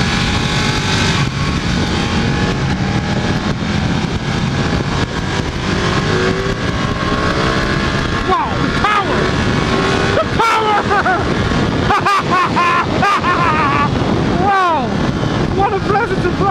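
A Ducati 1299 Panigale S engine roars hard on a racetrack, loud and close. It revs up repeatedly through the gears under strong wind rush, and a rider talks over it.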